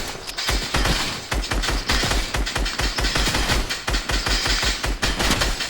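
Rapid AUG rifle gunfire in Fortnite, a dense stream of sharp shots in quick bursts with brief gaps, loud and close throughout with no talking.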